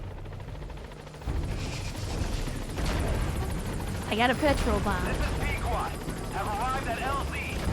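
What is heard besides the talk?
helicopter in the video game Metal Gear Solid V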